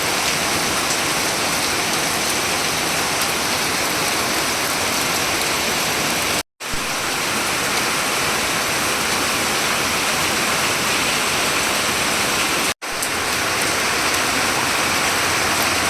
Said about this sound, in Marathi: किती मुसळधार पाऊस पडू राहिला आहे खूप पाऊस चालू आहे